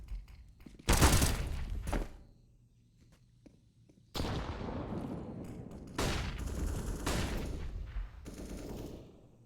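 Bursts of gunfire from a competitive Counter-Strike match on the map Ancient: loud rapid volleys, a few separate sustained rattles with quieter gaps and thuds between them.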